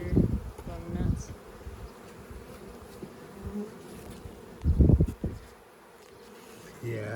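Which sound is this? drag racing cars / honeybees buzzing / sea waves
honeybees buzzing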